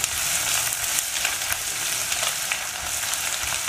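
Ginger garlic paste sizzles loudly in a hot pan for mutton pulao, a dense, continuous frying hiss with small crackles and pops throughout, close and with no voices.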